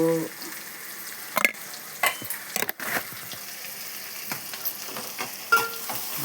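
Okra frying in a pan with salt and turmeric just added, a steady sizzle with occasional scraping and stirring knocks, close and fairly quiet, with no voices.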